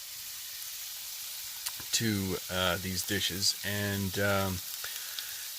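Butter browning and frying in a pan inside a campervan, a steady broad sizzle running throughout beneath someone talking at close range.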